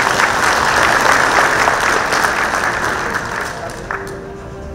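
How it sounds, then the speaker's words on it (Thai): Audience applauding steadily at a Thai award ceremony presenting plaques for anti-drug work, the clapping loud and continuous, tapering slightly near the end, with a faint voice over it. "ขอเสียงปรบมือให้ด้วยครับ"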